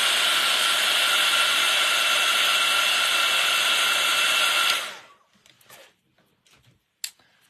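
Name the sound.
dryer blowing to dry wet gesso splatters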